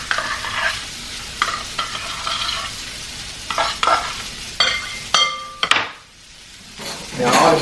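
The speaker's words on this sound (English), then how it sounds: "I'm gonna get my spatula, get in there and get the rest of that mayonnaise" A spatula scrapes mayonnaise out of a container into a chili garlic sauce with onions for a shrimp dish: a run of close scraping strokes and clacks against the rim, a few sharp knocks, then a softer rustling swirl.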